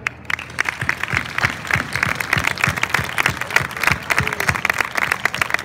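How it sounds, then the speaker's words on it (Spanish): Audience applause with dense, steady clapping from a crowd at a town proclamation presentation in Pastrana, sustained and fairly loud throughout. "yo les doy desde aquí mi fuerte aplauso"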